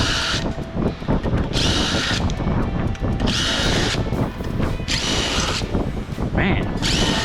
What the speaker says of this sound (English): See about getting the rest of these screws out.